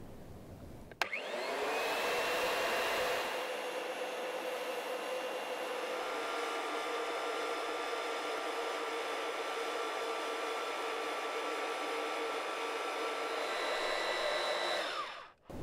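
A ground screw installation machine's motor starts abruptly and runs at a steady, loud whine and hum for about fourteen seconds, then cuts off at the end, no talking.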